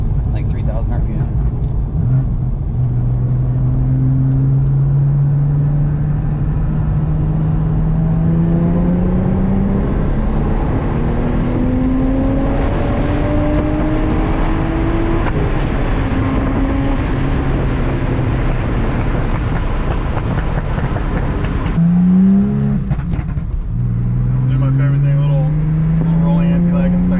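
An Audi B5 S4 from 2000 with tuning work and rolling anti-lag accelerates hard. Its engine note climbs steadily through the revs in long rising sweeps, loud and close, with a brief drop near the end before pulling again.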